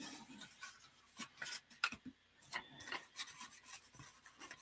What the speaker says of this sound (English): I'm giving it a little extra rub just to make sure that it's good and stuck